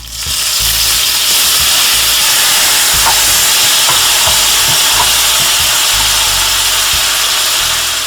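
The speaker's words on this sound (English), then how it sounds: "Our oil is nice and hot now, so we're going to throw the shrimp in." Shrimp hit hot olive oil and butter in a wok, setting off a loud, continuous close sizzle and hiss with faint crackles and pops throughout, no voices.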